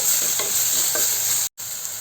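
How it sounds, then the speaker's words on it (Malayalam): Wilted spinach stirred in a hot cooking pan while making keerai kadayal, a soft continuous sizzle with faint scraping strokes of the spoon, a brief silent gap near the end, no voices. "നന്നായിട്ട് ഇതൊന്ന് ഇളക്കി യോജിപ്പിക്കണം"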